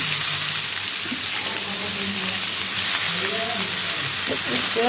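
Onions sizzle steadily in a hot pan, a loud continuous frying hiss with faint clinks and stirring noises mixed in, and no talking.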